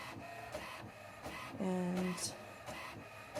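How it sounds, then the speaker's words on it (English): An HP Envy 5055 inkjet printer runs an image print job with a steady mechanical whir, repeated carriage clicks and a louder motor hum near the middle; one person says a single word. "So right now I have my image printing."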